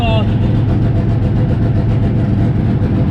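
A turbocharged car engine fitted with a boost controller idles as it warms up, giving a steady, close low rumble that holds an even level throughout.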